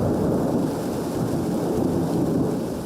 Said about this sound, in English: and it's raining again. But it's only a passing shower